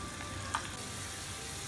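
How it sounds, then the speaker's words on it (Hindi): Onion and red chili frying in hot oil for a tadka, a steady soft sizzle running evenly throughout with one brief louder pop near the start, no voices. "ऑयल में हम ये प्याज और लाल मिर्च डालकर तड़का तैयार करेंगे"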